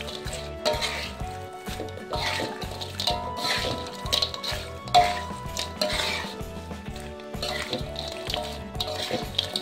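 Salted fish, petai beans and chili sizzle in a frying pan while a utensil scrapes and clinks against the metal in a steady stirring rhythm, with soft music underneath.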